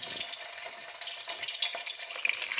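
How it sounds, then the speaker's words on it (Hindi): Small raw potato kebab patties fry in hot oil in a kadai, giving a steady close crackling sizzle with bright spitting pops throughout. "अब हमने छोटी छोटी टिक्कियों को ऑयल में डाल के अच्छी तरह से तल लेना है"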